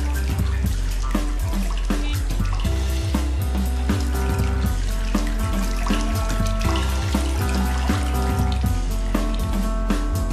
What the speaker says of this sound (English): the workers will bathe these pre-cut seat templates in plain water for 2 hours